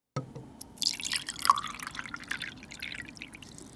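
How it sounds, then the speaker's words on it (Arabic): Hot and cold water poured into a glass: a close, continuous splashing pour that starts abruptly and keeps running steadily with a bright, gurgling edge. "هسه هذا ماي حار، سمعوا الصوت، وهذا ماي بارد، سمعوا الصوت."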